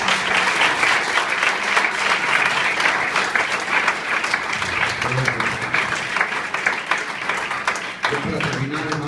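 A church congregation claps loudly for the Lord, dense sustained applause filling the whole stretch, with voices calling out beneath it and a few sung or shouted tones near the end.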